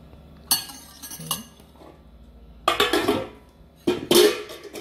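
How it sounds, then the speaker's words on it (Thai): Utensils clink and scrape against a large wok as wide rice noodles for rad na are stir-fried in a home kitchen in Thailand, coming in a few loud bursts separated by quieter pauses, with no talking. "นี่อ้วนผัดใส่กระทะใหญ่เลยแหละ"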